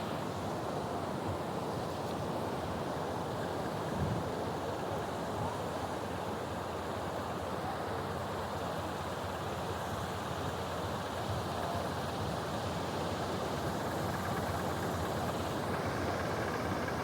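Sea waves on Teknaf beach: steady, close surf roar with heavy wind buffeting the microphone, continuous throughout with no talking.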